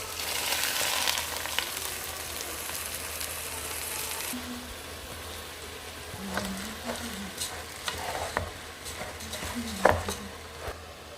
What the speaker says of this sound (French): Je mets mon riz dans mon huile.